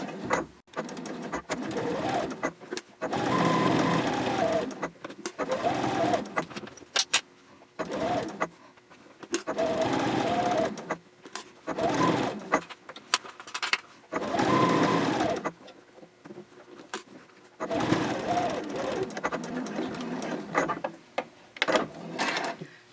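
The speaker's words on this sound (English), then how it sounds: "Now I'm top stitching approximately 1/8 of an inch away from the folded edge of my accent strip" A sewing machine top stitches fabric on a quilted bag in repeated bursts of rapid whirring stitching separated by short pauses, close and clear, with no talking.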